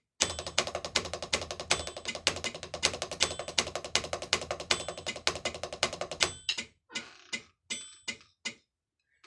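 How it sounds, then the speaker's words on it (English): Drum kit warm-up at about 160 beats per minute, played as straight 16th notes mixing accents and softer taps; a dense, fast, even stream of hits that thins into a few spaced strikes near the end, heard alone. "So what you hear is you hear basically just straight 16th notes."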